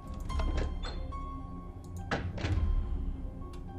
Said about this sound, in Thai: มันได้ยินเสียงเปิดประตูนะแต่ว่